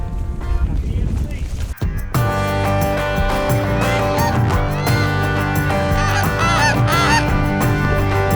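Loud, dense chorus of many geese honking overhead during a Texas goose hunt, near and continuous after a brief quieter opening with a sharp break, wingbeat-like calls layering over one another.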